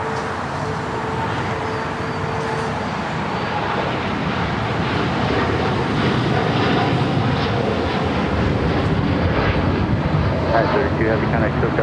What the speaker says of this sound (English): The flight heading to Tokyo Narita now rolling down at 25 right